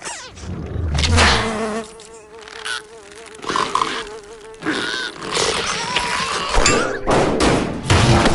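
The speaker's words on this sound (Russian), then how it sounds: "Муха." A housefly buzzes close by, its drone rising and falling as it moves around, with a couple of soft thumps in between.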